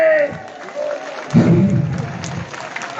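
A congregation at a worship service claps in a short, moderately loud burst of applause that swells midway, mixed with a speaking voice.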